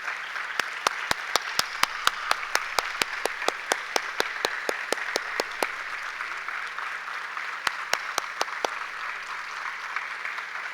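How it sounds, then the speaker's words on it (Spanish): Steady, evenly spaced hand claps at a literature award ceremony honouring a national prize winner, fairly quiet over a constant hall hum, with a brief pause before a few final claps. "Aplausos una vez más para don Efraín Castillo, Premio Nacional de Literatura"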